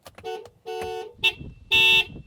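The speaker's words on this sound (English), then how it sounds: "This is what the horn sounds like." Horn of a 2025 GWM Haval Jolion SUV sounds in several short honks, the final one the longest, loud and close with a bright two-tone blare. No talk is heard over it.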